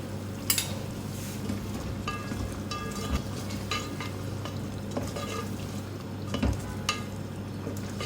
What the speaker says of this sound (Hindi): दही डाल के खूब भूनना है इसका, खूब ऑयल वगैरह निकल के आ जाए।